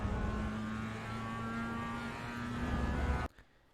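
A Mazda Miata race car engine in the iRacing sim hums at a steady, sustained pitch around Laguna Seca for about three seconds. It then cuts off abruptly, leaving near silence.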